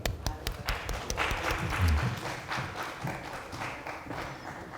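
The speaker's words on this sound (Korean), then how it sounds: "하나님께 영광의 박수" Clapping from a congregation during a Korean church service, a brief burst of applause under a busy room with some voices and faint music.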